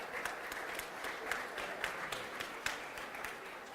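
Audience applause at a bourbon tasting, fairly faint and steady, with a few sharper claps standing out over a few seconds.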